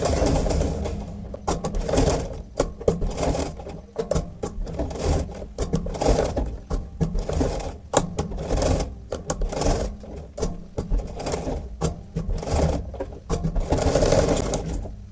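A sewing machine runs in steady, close bursts while stitching a blouse piece, its rapid needle chatter pausing briefly between runs as the fabric is turned.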